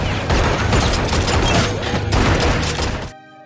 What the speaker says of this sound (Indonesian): Namun tiba-tiba Gage datang hingga terjadilah aksi tembak-tembakan.